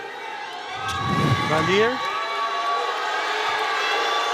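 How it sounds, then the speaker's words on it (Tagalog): An arena crowd at a PBA basketball game between TNT and San Miguel jeers in a swelling wave of voices that peaks and then settles into a steady murmur, with a commentator talking over it. "The jeers from the SMB crowd."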